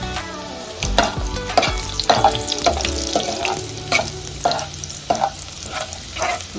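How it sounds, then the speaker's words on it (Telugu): Chopped garlic fries in hot oil with cumin and mustard, a loud close sizzle broken by repeated sharp spatula clinks and scraping against the pan, no talk. "ఇప్పుడు ఎల్లిపాయ ముక్కలు వేసుకోవాలి"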